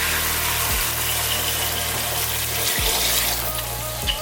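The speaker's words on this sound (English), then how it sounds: "What I'm going to do now is add some cold water." Steady rushing of cold water pouring into a cooking pot, with a low hum underneath and a few soft knocks, no voices.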